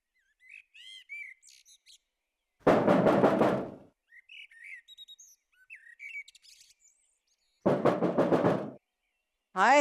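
Someone knocks hard on a door, two loud bursts of rapid banging several seconds apart, with birds chirping in the quiet gaps between.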